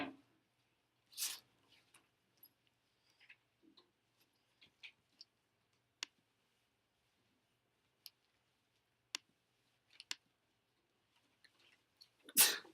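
A single sharp sneeze near the start, then scattered quiet ticks and clicks in a quiet room, with another burst at the end.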